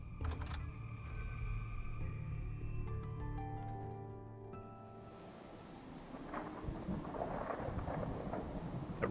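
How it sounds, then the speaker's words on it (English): Rolling thunder in Fallout 4 rumbles and fades over steady falling rain, with a low crackling roll early on and then a fuller patter of rain on surfaces, heard alone without talk. "That rolling thunder."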